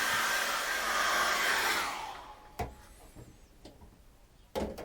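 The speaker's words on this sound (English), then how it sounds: "I get my hairdryer, and I'm just going to dry that yellow off" A hair dryer blows loudly for about two seconds to dry acrylic paint on a sunset landscape painting, then cuts off, leaving faint clicks and light tapping in a quiet room.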